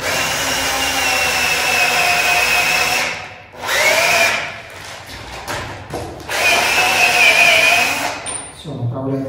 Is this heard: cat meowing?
no